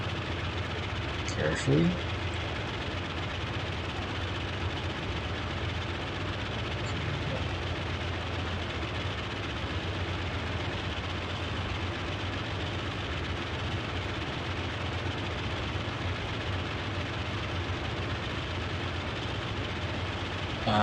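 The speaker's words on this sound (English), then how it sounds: "We're going to very carefully disengage the parking brake and commence taxiing" Radial piston engines of a Boeing 247D airliner drone steadily as the aircraft taxis slowly in Microsoft Flight Simulator, a constant low rumble running throughout with a person talking over it.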